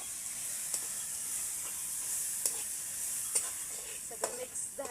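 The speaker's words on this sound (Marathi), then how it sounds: "तर सगळं मिक्स करून घेणार आहे आता सगळं." Spice masala mixture with turmeric and onion masala stirred in a pan, a soft steady sizzle with faint scraping taps of the spoon coming through intermittently, close and quiet.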